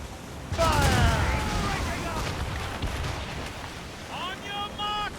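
Musket volley fire in the naval game Assassin's Creed Rogue: a heavy, rumbling wash of gunfire that swells and lingers, with shouted voices of crew over it.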